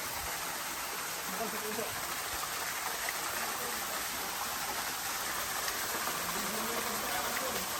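Spring water streams steadily near a waterfall in Taiwan, a continuous broad rushing hiss without breaks, with faint voices underneath.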